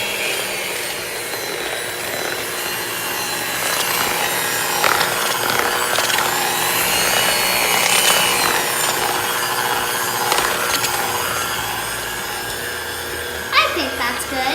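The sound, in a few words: mixing cheesecake batter with vanilla extract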